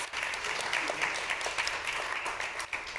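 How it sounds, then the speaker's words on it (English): Audience at an SME business assembly on ESG applauds after a talk, a steady moderate patter of clapping in a hall, slightly distant and continuous. "Round of applause."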